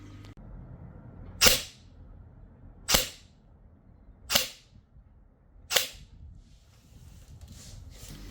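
Airsoft AEG gun firing over a chronograph: four sharp, evenly spaced single shots, each a crisp snap with a quick mechanical tail, standing out against a quiet room.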